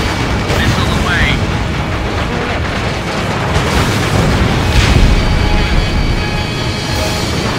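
A missile launch and explosions in the Ace Combat Infinity flight game, a dense continuous roar of booms and rumbling blasts, loud and sustained, with a voice speaking over parts of it.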